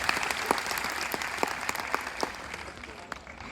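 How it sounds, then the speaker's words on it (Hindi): Audience at a live orientation program at GJU Hisar breaks into sustained applause, a steady wash of clapping with a few sharper claps standing out, fairly distant and moderately loud. "मुझे लगता है इसके लिए एक बार फिर से हम जोरदार तालियां बजाएंगे।"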